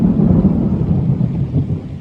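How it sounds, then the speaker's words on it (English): Loud, deep rumbling thunder rolls continuously and close by in Houston, a heavy low roar with a faint rain-like hiss, no voices. "Right now you can hear the thunder in the background."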